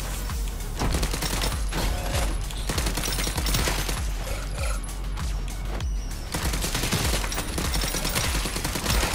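Dense, loud gunfire from a weapon in the alien-fighting run-and-gun game Soda Crisis, fired in rapid bursts of stacked, crackling shots that keep going almost without pause, with no voices.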